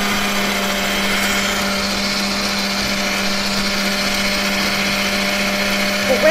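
A kitchen stand mixer whirring steadily while beating cake batter for a mojito cake, a loud continuous motor hum with a steady tone throughout.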